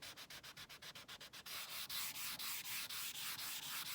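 Steady rhythmic sanding strokes rub back and forth on a guitar fretboard, quick short passes at first, then longer, smoother scrapes, close and alone.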